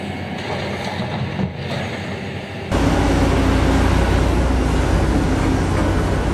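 Caterpillar 6015B hydraulic excavator working a coal mine in winter, its heavy diesel engine a steady, loud, broadband roar that jumps sharply louder partway through and holds at full power.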